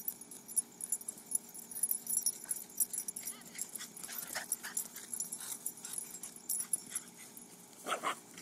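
A Boston Terrier hunts a gopher outdoors, close by, with repeated eager whimpers and short yips mixed with sniffing, scuffling and faint collar-tag jingling in uneven bursts.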